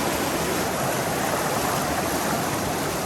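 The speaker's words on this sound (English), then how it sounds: "That was a very stiff water flow there." Strong water current at Tumpak Sewu waterfall in Indonesia, a dense, loud rushing roar of flowing water, close and unbroken, with no voices.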